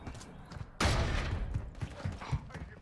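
A single sharp pistol shot in the video game Modern Warfare 3, a sudden loud burst followed by a short ringing tail and some mechanical clatter under faint background sound.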